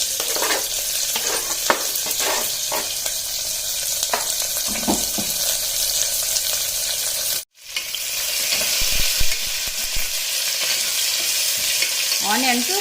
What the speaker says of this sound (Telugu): ఆనియన్స్ పూర్తిగా ఎర్రగా అయ్యేంత వరకు ఫ్రై చేసుకోవాలండి